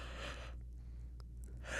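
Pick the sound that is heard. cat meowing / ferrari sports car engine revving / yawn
yawn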